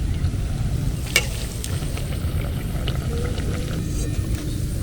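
Potato pieces sizzle steadily in a hot pan, a continuous crackling fry with a few sharp pops and light scrapes, close and alone without any talking.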